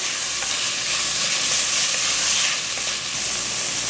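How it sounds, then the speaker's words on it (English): Saltfish and onions sizzle steadily in a hot pan while being stirred, a loud continuous frying hiss close up with no talking. "Then I'm going to add the saltfish. Give that a quick stir."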